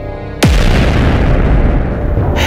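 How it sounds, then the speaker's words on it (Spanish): A sudden loud boom followed by a long, rumbling roar of continuous chain explosions set off by a fire in a ship's hold, rolling without letup. "comienza un incendio en una de las bóvedas y causa una serie de explosiones en cadena."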